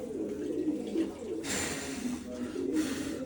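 Pigeons cooing nearby, a series of soft, low throaty coos repeating over a faint background hiss.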